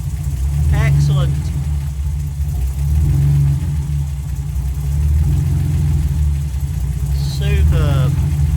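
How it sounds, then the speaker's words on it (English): A TVR 280S S1 engine idles steadily after starting, with a low rumble and slight swells in revs. Brief squeaky sounds occur twice above it. "let's get this car started and check for any leaks"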